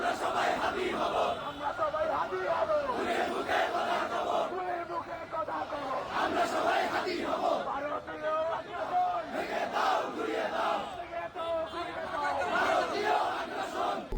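A street protest crowd in Bangladesh chanting slogans in unison, many voices rising and falling in rhythmic waves, continuous and fairly loud throughout.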